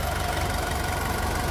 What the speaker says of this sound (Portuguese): Esse torrada, famoso motor 1KZP.